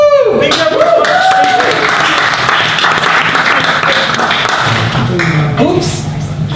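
Audience at a web industry meetup in Brisbane claps and whoops in sustained applause lasting several seconds, with cheering voices and some talk mixed in, fading slightly at the end.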